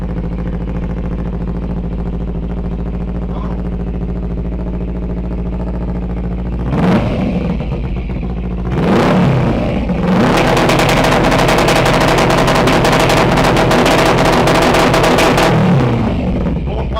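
A Kawasaki Ninja 250R, a 2013 model fitted with a custom exhaust muffler, idles steadily and then revs hard several times, the loud bursts breaking into sharp crackling pops, with no talking.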